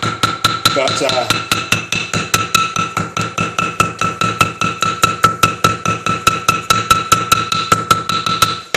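Natural tinder fibres are pounded over and over to separate them, giving a long, steady run of sharp, evenly spaced thuds close to the microphone. A brief word of speech slips in near the start.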